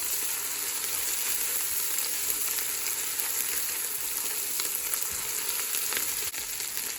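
Beef for tikka boti kabab pilau fries in a pan with a dense, even sizzle that holds steady and close for the whole stretch, without speech.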